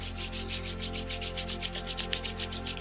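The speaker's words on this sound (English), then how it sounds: "Gently rub your palm together." Palms rubbed briskly together during a yoga routine, a close, soft rhythmic swishing of skin on skin in quick regular strokes, with no talking.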